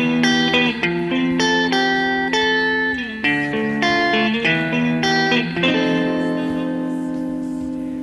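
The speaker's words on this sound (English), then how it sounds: "a little piece of recorded guitar" Clean electric guitar recorded and played back dry, a sequence of plucked chords and single notes ringing with clear sustain, close and steady, one pause near the middle and no talk.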